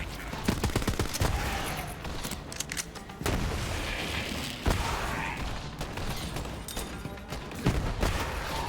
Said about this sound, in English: Still shooting.